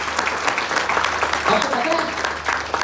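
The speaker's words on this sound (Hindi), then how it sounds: "इनके लिए जरा जोरदार तालियां बजाइए।" Applause for Mr. Gautam Bali at a Vestige business plan meeting: a crowd claps loudly and steadily through the whole stretch, with a voice speaking over the clapping.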